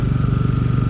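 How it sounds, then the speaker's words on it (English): A portable generator roars at full throttle with no sound deadening, a loud, close engine drone with a rapid, regular pulsing throb, heard alone for one second. "that's the sound of our generator going full blast with no sort of sound deadening"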